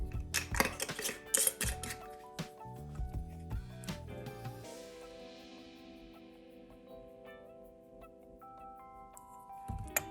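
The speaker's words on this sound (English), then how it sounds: "And just give that a stir quick." A spoon clinks and scrapes against a pot while pink Himalayan salt and thyme are stirred in, several bright metallic knocks early on, then a ringing tone fading out and a final clink.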